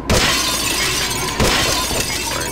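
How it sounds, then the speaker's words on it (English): Glass shattering in the Sven Co-op game Afraid of Monsters, with two loud crashing breaks a little over a second apart and a dense tinkling wash of shards between them. "Sorry, breaking glass."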